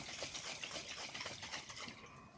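Apple juice and water sloshing inside a bottle that is being shaken, a steady broadband churning and splashing that runs continuously and fairly loud without a break.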